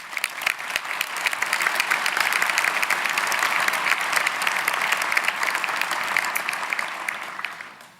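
A crowd at a political speaking event breaks into sustained applause, a dense, even wash of many hands clapping that holds strong for several seconds before starting to taper at the end.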